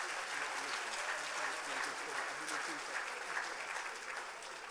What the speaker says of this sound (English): just show him a big round of applause